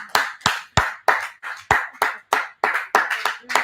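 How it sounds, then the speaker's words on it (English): Rhythmic hand claps for a fashion designer at an international youth summit, about a dozen sharp claps in steady succession, close and fairly loud with no talk over them. "Makoko, let's clap for her."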